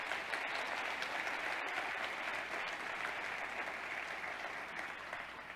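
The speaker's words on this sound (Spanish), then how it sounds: "Denle un aplauso al Señor, por favor." A church audience at a sermon applauds in a steady, even wash of clapping that stays constant throughout, fairly soft and distant, tapering slightly at the end.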